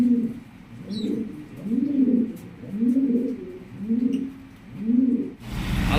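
Pigeons at a pigeon farm in Bhawal Mirzapur, Gazipur, coo close by in a slow, regular series of about five rising-and-falling rolling calls, clear and alone.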